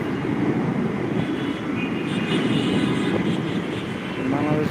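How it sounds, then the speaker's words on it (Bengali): A loud, steady jet engine roar of a Biman Bangladesh airliner at Hazrat Shahjalal International Airport, Dhaka, sustained and powerful throughout, like an airplane revving up for takeoff. "এখনই আমাদের মাঝে ফ্লাই করতে যাইতেছে বাংলাদেশ বিমান"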